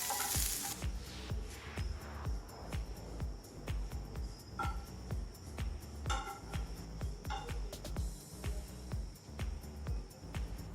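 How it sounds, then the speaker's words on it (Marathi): Sliced onions roasting in a pan, a soft continuous sizzle and crackle with repeated scraping from stirring, close and fairly quiet. "कांदे हे आपल्याला लालसर रंग येईपर्यंत व्यवस्थित भाजून घ्यायचे आहे"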